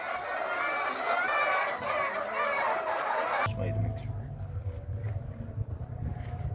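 Chickens clucking in a farm shed, a steady busy chatter of many birds for the first half, then dropping away behind low rumbling background noise.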